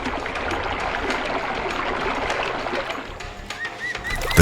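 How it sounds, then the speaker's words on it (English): Water trickling and splashing over stones in a stream in an Indian jungle, a steady close wash of sound with faint birdsong chirps rising near the end. "the sound of water whispering through the stones"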